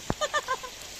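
A few short, nasal duck quacks in quick succession at Antalya Zoo, fairly faint, after a brief thump, with steady background hiss.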